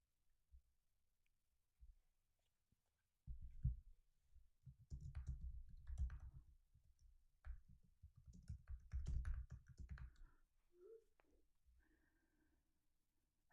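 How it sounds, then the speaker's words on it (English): A deck of angel cards is shuffled close by, giving soft papery riffles and taps in quick bursts that run for several seconds and then fade to faint clicks. "I'm actually going to go ahead and shuffle the angel cards really quickly"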